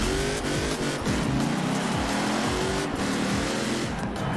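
Engine roar and tire noise from fast cars in an offroad cross-map race in the video game Forza Horizon 4, a steady loud drone with shifting revs and brief skids throughout.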